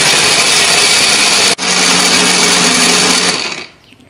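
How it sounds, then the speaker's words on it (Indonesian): Blender grinding chili and spice paste with a little water or oil, a loud, steady whirring motor that runs continuously, cuts out for an instant, resumes, then winds down at the end. "Setelah ini kita siapkan blender."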